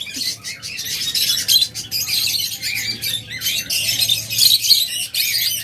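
Caged pet lovebirds and budgerigars squawk and chirp constantly, many birds close by in a dense, overlapping chatter with a faint low hum beneath.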